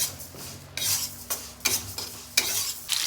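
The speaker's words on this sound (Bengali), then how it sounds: "বিনস আর ফুলকপি এখন ভাজা হচ্ছে" Beans and cauliflower fry in a pan with a low, quiet sizzle, punctuated by several sharp scrapes and clinks of a utensil stirring the vegetables against the metal.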